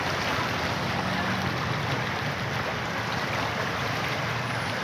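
Strong waves rush and churn continuously, a loud steady wash of water filling the whole stretch with no pauses.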